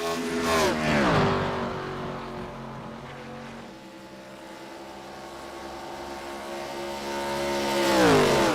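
ARCA race cars at Pocono roar past in a Long Pond 150 race, engines rising and falling as they pass. A loud pass opens the stretch, a steadier drone carries through the middle, and another car sweeps by near the end.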